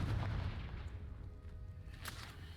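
A Confringo blasting spell in the video game Hogwarts Legacy, heard as a deep, booming burst at the very start that fades into a low rumble, with a faint crackle later and no talking.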